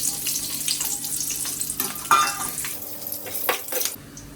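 Whole spices including cloves, star anise and bay leaves frying in oil in a pan for biryani masala: a soft crackling sizzle with clinks and scraping stir sounds, fairly quiet and close, with no talk.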